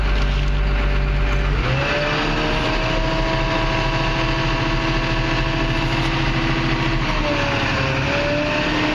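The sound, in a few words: Komatsu D61 bulldozer engine running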